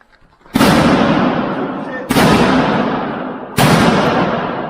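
Three loud, hollow booming strikes hit the bare, unpainted body of a caravan, each one ringing and slowly fading before the next, close by.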